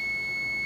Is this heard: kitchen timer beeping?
yes